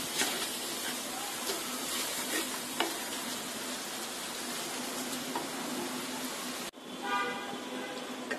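Chicken sautéing with ginger-garlic paste in a pan, a steady close sizzle and frying hiss with occasional stirring scrapes that runs unbroken for several seconds before a brief drop and a return.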